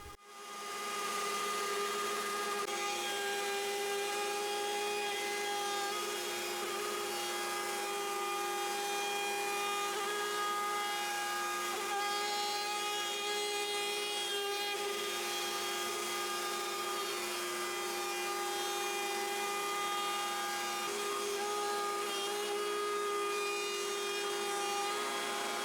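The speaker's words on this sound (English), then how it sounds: "I use this bowl and tray bit to finish the top surface of the tray and cut the inside 1/4 inch round over" Router fitted with a bowl and tray bit cutting the top surface and inside round-over of a patterned hardwood serving tray; a steady, loud, high-pitched whine with a rasping cut runs continuously throughout, no talk.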